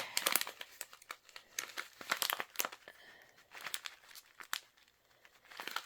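Subscription box packaging torn and crumpled open, with bursts of crinkling plastic or paper and short tearing rips, close but fairly quiet, coming in uneven clusters with brief pauses.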